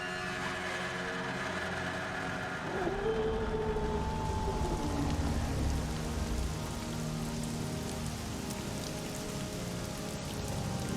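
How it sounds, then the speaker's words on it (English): Steady heavy rain pours in a horror video game, coming through a curtain in a dark house, a dense continuous hiss throughout with a faint tonal drone and a brief sliding tone midway. "The rain's coming through the curtain."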